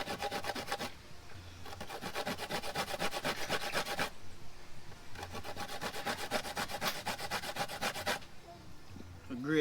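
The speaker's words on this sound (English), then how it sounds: "Grater coconut for Sunday dinner." Coconut scraped on a hand grater outdoors in Jamaica for Sunday dinner, two long bursts of rapid, rhythmic rasping strokes with a short pause between them, close and fairly quiet.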